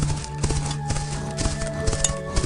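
A horse's hooves clop in a steady, quick rhythm of repeated sharp thuds, fairly close and moderately loud over a busy background with no voices.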